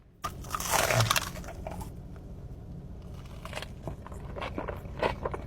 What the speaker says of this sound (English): The crunch on this about to go crazy.